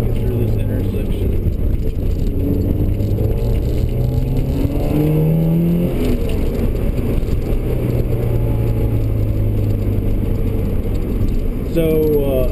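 A car engine revs during rev-matched downshifts through the gears, with rising and falling engine tones and short blips heard from inside the cabin, steady road rumble beneath and a voice talking over it.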